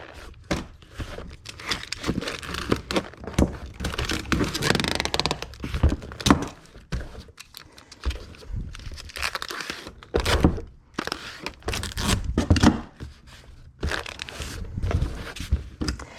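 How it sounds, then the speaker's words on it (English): A cardboard shipping box being taped shut for posting, heard up close as tape rips and screeches in repeated pulls amid thumps and crinkling handling, with no talking. "And then I'm just gonna go ahead and get this box taped up."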